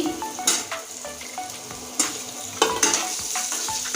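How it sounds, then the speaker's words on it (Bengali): Potatoes frying in oil previously used for fish, a continuous sizzle broken by repeated scraping and clinking strokes of a spatula against the pan as they are stirred. "আলুগুলো ভেজে নেব এই মাছ ভাজা তেলের ভিতরেই"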